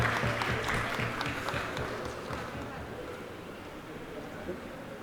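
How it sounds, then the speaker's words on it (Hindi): An audience at an award ceremony during a Mumbai Urdu festival seminar claps steadily in a dense, continuous wash that fades slightly. A voice speaks over it throughout. "बहुत ज़ोरदार तालियां हो जाए।"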